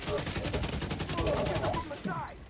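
Rapid gunfire in the video game The Division, a dense stream of shots and bursts running almost continuously, loud and close, with a brief trailing sound at the end.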